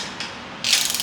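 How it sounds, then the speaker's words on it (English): A torque wrench ratchets while tightening engine bolts on an LS engine build, a soft low clicking that turns into a brighter, louder burst of rapid ratchet clicks near the end, with no voices. "Alright, torque these bolts just to 20."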